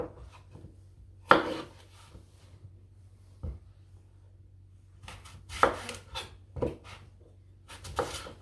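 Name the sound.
knife chopping Granny Smith apples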